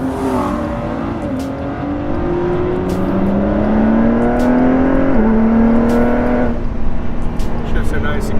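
A car engine revs up steadily with rising pitch, then briefly drops and climbs again as a gear changes, loud and close.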